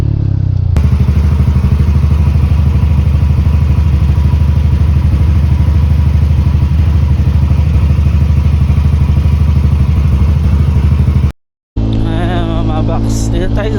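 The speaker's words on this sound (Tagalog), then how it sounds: "sobrang macho ng tunog nitong Evo 2" A motorcycle fitted with an MTRT Evo 2 exhaust idles loud and close, a deep, bassy, rapidly pulsing rumble held steady for about eleven seconds before a brief cut and a busier burst of sound.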